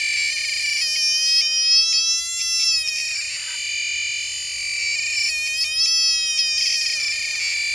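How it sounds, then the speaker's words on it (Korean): A homemade metal detector gives a steady electronic tone, with a warbling, changing pitch in two bursts as metal is placed over it. "스위치를 딱 키면 소리가 나는데 이런 금속 물질을 올려놓으면 소리가 달라집니다."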